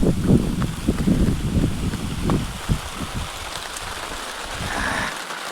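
Heavy rain pours steadily on a cotton farm, a dense continuous patter with heavier thumping drops and gusts throughout, loud and close with no voices.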